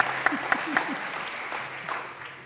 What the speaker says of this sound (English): Give Lee a round of applause for that, I think.